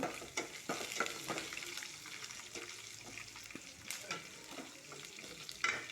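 Chopped large onions hit oil in a pan already crackling with chana dal and mustard seeds, giving a soft steady sizzle broken by scraping stirs and occasional pops, fairly quiet and close, no talk.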